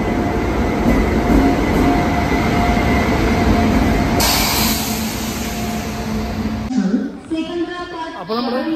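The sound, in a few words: Madurai Express train ride, Angamaly to Kottayam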